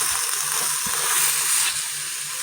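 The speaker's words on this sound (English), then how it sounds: "we're going to brown the hamburger with the salt, pepper, garlic, and chili powder in it" Ground hamburger with salt, pepper, garlic and chili powder browning in an Instant Pot gives off a steady, loud sizzling hiss with faint stirring knocks underneath.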